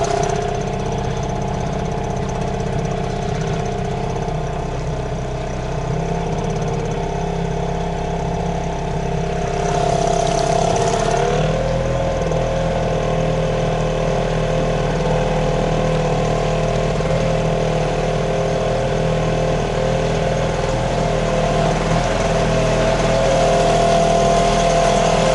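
A small Chinese outboard boat motor during break-in, droning steadily at a constant running speed with a tonal hum, loud and close for the whole stretch, with a brief shift in pitch midway and no talk.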